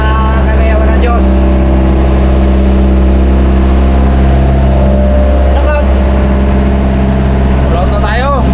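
A boat motor runs steadily on a single engine, a loud constant low drone throughout, with voices speaking faintly over it.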